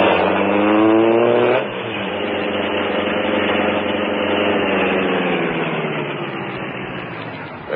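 A sleek black car, a radio drama effect, starts with a loud engine roar that drops after a moment, then settles into a steady driving rumble that slowly fades as it pulls away.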